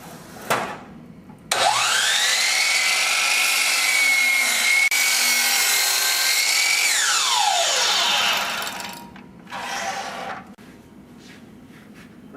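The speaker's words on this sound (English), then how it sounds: "We start the machine and make our cut in the correct stroke" A sliding miter saw spins up, runs loud and steady with a rising whine as the blade cuts through wood for several seconds, then winds down, followed by a brief quieter burst near the end.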